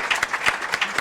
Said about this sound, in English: Let's give a round of applause for Thanks, Josh.